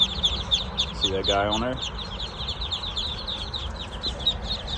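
Newly hatched Muscovy ducklings peep in a dense, continuous, high chorus close by, with a brief lower rasping call partway through and a person speaking over them.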